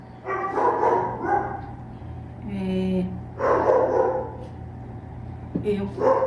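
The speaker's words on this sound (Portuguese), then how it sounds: "se vocês ouvirem algum barulho aí, tá? É o cachorro do vizinho." A neighbour's dog barks in short bursts from nearby, mixed in with a person talking over a steady low hum.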